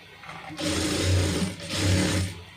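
A sewing machine stitches a folded puff sleeve in two short bursts of rapid, rhythmic mechanical whirring, close and fairly loud, with a brief pause between them.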